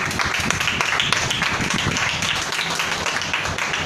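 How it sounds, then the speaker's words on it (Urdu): A church congregation applauds loudly, with dense continuous clapping that stays even for several seconds. "آپ کی زوردار تالیوں میں"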